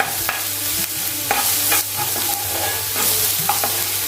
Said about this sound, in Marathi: तर व्यवस्थित मी फास्ट फ्लेमवरती आपण मिक्स करून घेऊया.